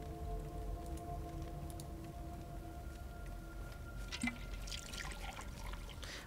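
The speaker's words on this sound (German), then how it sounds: "Füllen wir gerade nochmal Wasser auf." Water being refilled in the game Wasteland 2: a faint trickling and pouring under a low hum of background music, with a brief splash near the end.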